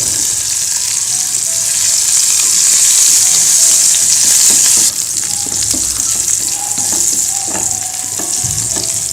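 Onion and garlic fry in oil in a pan, a loud, steady sizzle that runs throughout, with scraping stir strokes breaking in more often during the second half. No one speaks.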